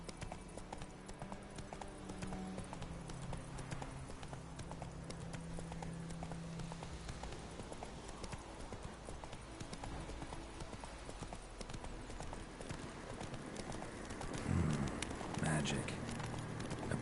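Roach, Geralt's horse in The Witcher 3 video game, gallops in a steady clip-clop rhythm of hooves running throughout, with game music and ambience underneath and a louder burst of action near the end.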